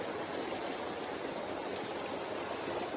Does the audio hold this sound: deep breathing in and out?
no